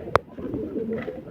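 Kasuri and Rampuri pigeons coo in a low, rolling murmur close by, opened by one sharp click, with a steady soft burble continuing through the rest.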